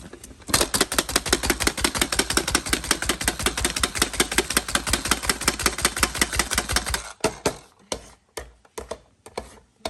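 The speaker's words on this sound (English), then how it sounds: "We're gonna chop the onion with that." Rapid, steady chopping clatter from a hand chopper cutting onion, fast rhythmic strikes for several seconds, then slowing to a few scattered clunks.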